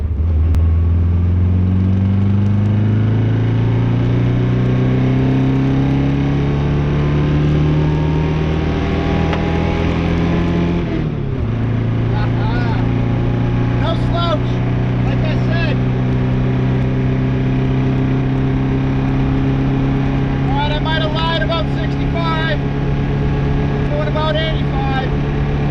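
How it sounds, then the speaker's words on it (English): A 1974 Saab Sonett accelerates on a freeway, its engine note climbing steadily, dropping at a gear change midway, then rising again as a constant in-cabin drone, with brief voices over it. "So why don't we go out on the freeway, get it up to speed."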